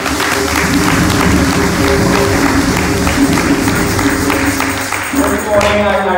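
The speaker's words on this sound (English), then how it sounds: "Give God a round of applause." A church congregation at a Thanksgiving service breaks into a sustained round of applause, dense clapping from many hands close by, fading slightly near the end as a voice comes in.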